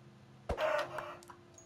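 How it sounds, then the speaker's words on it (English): A single chicken in the video game Minecraft gives one short, close cluck-like call after a sharp thump, set against quiet ambient game music. "I kill chicken."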